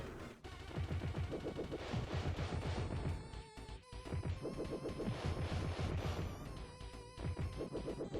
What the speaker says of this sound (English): now you're gonna resort to throwing grenades at me